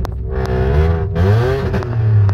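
Modified VW Polo with a Code 6 Stage 2 tune revving hard up close, loud rising and falling engine roar with crackling exhaust pops between throttle blips, heard alone.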